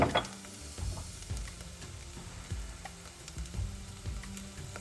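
Onions browned to light brown sizzle in a pan with ginger and garlic paste for chicken biryani masala, a steady close frying hiss broken by repeated scraping stirs, with no talking.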